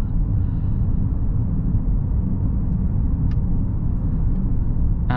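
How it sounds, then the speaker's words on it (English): Steady interior road noise from a 2022 Mercedes-Benz GLC 300 4MATIC SUV on the move, a continuous low rumble of engine and tyres at even loudness, with a couple of faint ticks near the end. "show you the drive characteristics of this GLC 300 4MATIC SUV"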